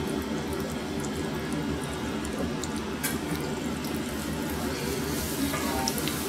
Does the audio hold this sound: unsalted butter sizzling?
yes